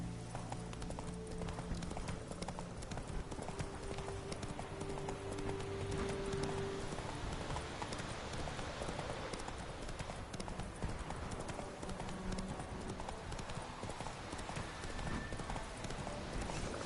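Roach the horse gallops in The Witcher 3, with a steady, rapid clip-clop of hooves that runs throughout over a continuous bed of background noise.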